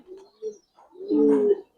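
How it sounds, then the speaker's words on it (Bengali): Silver Giribaz pigeons giving a couple of short murmurs followed by one fuller, low throaty coo, soft and close. "সিলভার কবুতর দেখেন ভাই"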